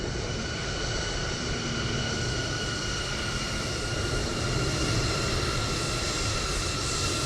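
A simulated airliner engine drones steadily and loudly in a flight simulator on approach to Oslo, a continuous broadband roar with a faint whine and no talk over it.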